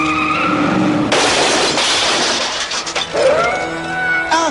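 A cartoon truck skids with a long, harsh screech and then crashes in a clattering burst, bracketed by tonal cartoon effects and a brief rising whistle as the noise settles.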